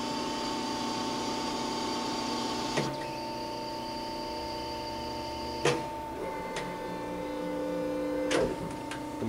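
A Pacific 165-ton, 12-foot hydraulic press brake wired for 230 volts runs with a steady hydraulic hum and whine, broken by three sharp clunks as the ram cycles, close and without talk.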